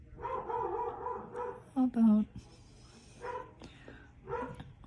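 A dog barks two or three times nearby in a room during polymer clay crafting, with someone talking before and after the barks.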